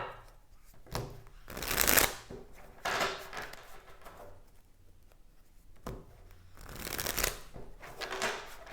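Tarot cards being shuffled by hand in several bursts of crisp riffling and slapping, the loudest bursts near the start and toward the end, with quieter handling of the deck in between and no talking.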